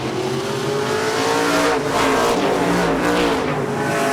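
Race cars roar around the track at a live 2007 racing broadcast, loud and continuous engine drone with layered revving tones swelling as cars pass close by, no talk over it.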